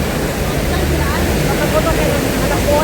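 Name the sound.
running water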